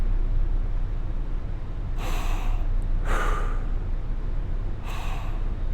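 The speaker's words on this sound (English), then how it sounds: "just calming everything down, just deep breathing" Deep, slow recovery breaths during a calming breathing exercise: three separate airy exhalations, each about half a second long, heard close against a steady low background hiss, with no talking.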